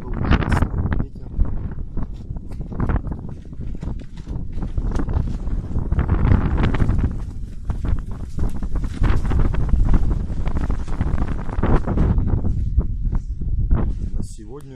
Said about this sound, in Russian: Погода ужасная, ветер.